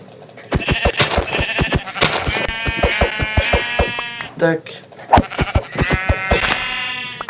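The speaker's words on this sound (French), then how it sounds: "Viens là, petit mouton." Sheep in Minecraft give several loud, nasal bleats close by, mixed with sharp rhythmic clicks from the game, while a voice briefly speaks.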